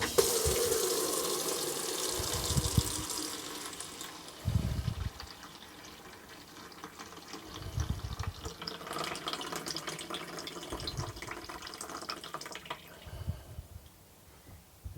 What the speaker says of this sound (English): So now we'll just switch the tap on.